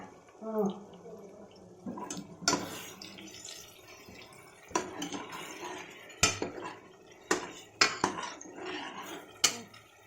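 A spoon scrapes and clinks against a metal cooking pot while tomato and cooked dal are stirred together, with irregular sharp knocks and soft swishing, and people talking quietly nearby.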